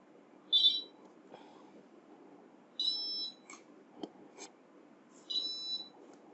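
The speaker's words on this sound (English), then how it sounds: "there is a constant beep" Electronic beeps from a handheld game device: a short high tone, then a longer double-pitched tone, and a third near the end, repeating over a faint hiss with a few soft clicks between.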